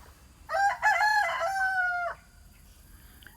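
A rooster crows once, loud and close, in a single long call of about a second and a half beside a homestead chicken coop; no voices.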